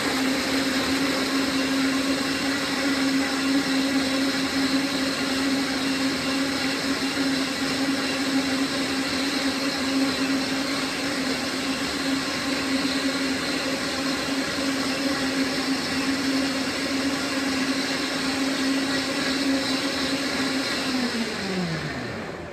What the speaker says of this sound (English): So I'm going to turn the blender around to 5 and then press the start